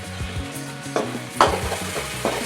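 Cooked onion and tomato being stirred and mashed in a pan for Kerala-style kadala kurma, with scraping strokes and soft thumps over a gentle sizzle, close and moderately loud.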